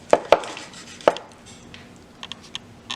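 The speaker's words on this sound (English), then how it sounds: "you want to make sure you cut the slices the same size" A knife cuts through a sushi roll on a board, giving three sharp, close chops early on. Fainter taps and small clicks follow, with no talk.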